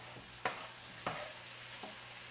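Shrimp sautéing in butter in a pan gives a faint steady sizzle, broken by three soft scraping stirs spaced about half a second apart, close and quiet with no talking.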